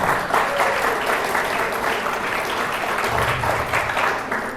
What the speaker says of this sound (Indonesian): Mana tepuk tangannya, Bu?